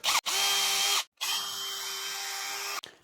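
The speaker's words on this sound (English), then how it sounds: "drill through as level and straight as I can. Very gently with a 2 mil drill bit" A small power drill with a 2 mm bit whirs at high speed drilling a hole in wood, in two bursts, a short one then a longer steady run, with a brief pause between.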